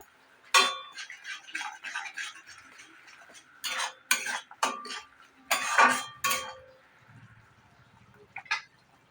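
A metal spoon scraping and clinking in a pan as masala with turmeric and Kashmiri chilli powder is stir-fried for a paneer dish, a series of irregular close scrapes and knocks with pauses between.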